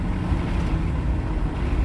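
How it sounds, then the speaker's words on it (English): Steady, rumbling wind buffets throughout at Cape Henry Lighthouse, Fort Story, Virginia, a loud low roar with no talking. "A little windy."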